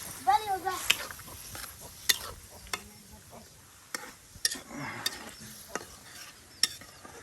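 Onion and potato frying in a pan on a clay stove: a faint sizzle under sharp spatula clicks and scrapes from stirring, with a voice talking briefly at the start.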